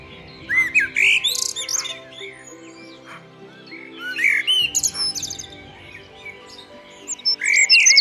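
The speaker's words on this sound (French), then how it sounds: "Les merles leuciques" A leucistic Eurasian blackbird in Plérin, Côtes d'Armor, gives bright chirps and squawking calls in repeated bursts, fairly close and loud, with short pauses between phrases and no talking.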